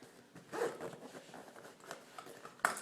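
Zipper on a Vera Bradley Frannie bag being worked in short scratchy pulls, close and fairly quiet, ending with a sharp final zip.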